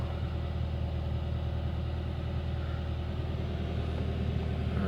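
A 2018 Subaru WRX idles after a cold start, giving a steady low rumbling engine hum at moderate distance with no talk.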